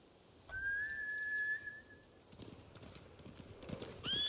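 Samurai horses in the video game Ghost of Tsushima, a long high whistle-like whinny up front, then rapid hoof clip-clop as the mounts gallop off, ending with another brief whinny, at moderate loudness.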